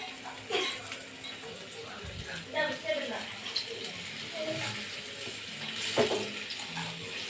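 Fish fried with salt and masala on a dosa tawa, with soft sizzling and scattered clinks and scrapes of turning throughout, occasional louder clatters, and faint voices in the background.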